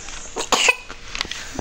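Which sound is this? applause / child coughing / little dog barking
child coughing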